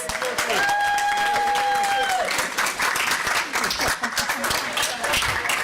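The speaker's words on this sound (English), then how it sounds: "Can we give him a big round of applause?" Sustained audience applause at a school district governing board meeting, loud and dense throughout, with a few voices and whistles mixed in near the start.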